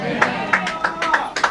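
Hand claps from a congregation at a church service land in a quick, regular rhythm, close and fairly loud, with a voice talking over them.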